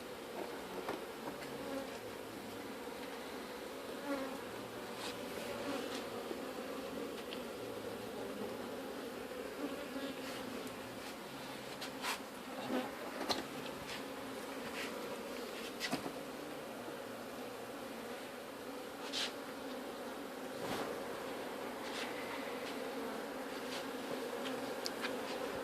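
A swarm of honey bees buzzing at an open hive, a dense, steady drone that runs continuously and close up, with scattered louder passes of individual bees over it.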